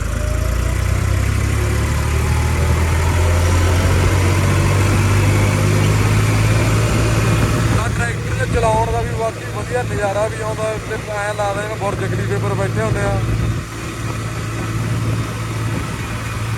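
A New Holland 4x2 tractor engine idles with a steady low rumble throughout, close and loud, while someone talks over it for much of the stretch.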